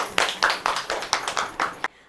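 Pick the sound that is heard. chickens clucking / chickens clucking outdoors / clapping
clapping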